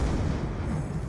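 Sticky grenade blast in Call of Duty Black Ops 2 multiplayer, a short heavy low rumble with a rough booming tail that stays loud across the brief moment, without talk.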